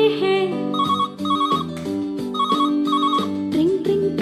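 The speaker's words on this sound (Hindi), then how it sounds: "ट्रिंग ट्रिंग करता टेलीफोन" A ringing telephone in a children's Hindi nursery rhyme: a bright electronic ring repeats in short bursts over a full musical backing, with the ring tones recurring steadily through the passage.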